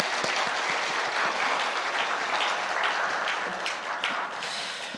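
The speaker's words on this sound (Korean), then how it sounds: "함께 우리 격려와 또 축복의 박수 한번 부탁드리겠습니다" A church congregation applauds its Sunday school children during a Children's Day morning service, the clapping full and continuous throughout before easing slightly toward the end.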